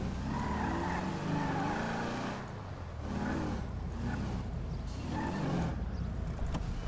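Car being maneuvered into a parking spot in a drug-trafficker roleplay video game, continuous engine hum with short tire-squeal skids as it swings into position.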